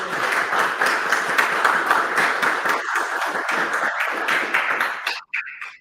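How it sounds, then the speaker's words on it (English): Workshop audience gives a sustained round of applause with dense, steady clapping for about five seconds before it thins out and stops. "Can we get a round of applause,"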